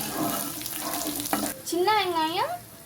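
Chopped onions sautéing in a pan for garlic curry, a steady sizzle with stirring scrapes, joined late by a rising and falling whistle-like tone.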